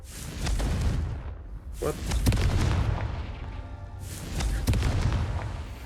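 The Confringo explosive spell in the Hogwarts Legacy video game lets out several loud booming blasts with rumbling tails, close and heavy, while a voice speaks briefly between them.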